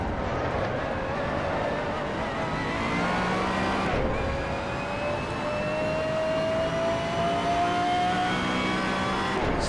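Pagani Zonda R racing in Assetto Corsa, a sustained high engine drone with rising gear-pitch whine, a sharp shift break midway, then climbing revs again, loud and continuous.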